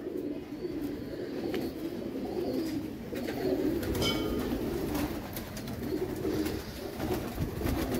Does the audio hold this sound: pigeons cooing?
yes